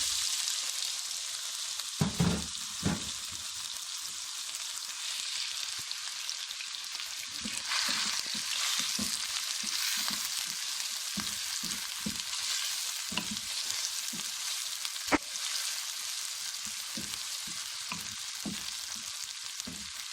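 Onions frying in a pan until brown, a constant hissing sizzle punctuated by intermittent stirring scrapes and taps, close by with no talking.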